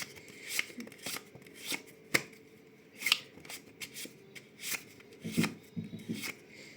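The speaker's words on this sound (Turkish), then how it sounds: "Şimdi biraz karıştırıyorum desteği." A deck of playing cards is shuffled by hand at close range, with repeated quick riffling and rustling bursts coming in an uneven rhythm.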